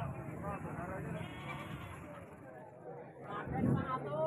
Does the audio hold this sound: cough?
no